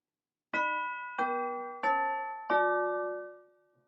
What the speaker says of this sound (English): I love the tubular bells too.